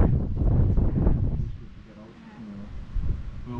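Breezy, wet weather out by a ruined mine building, with wind buffeting and rumbling across the microphone, loud at first, then easing and gusting up again toward the end.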